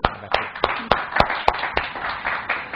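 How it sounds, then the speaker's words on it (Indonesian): A small audience claps for a guest entrepreneur at a business talk, a sparse string of distinct, fairly close hand claps in an uneven rhythm. "Kita beri tepuk tangan dulu Pak Saripin."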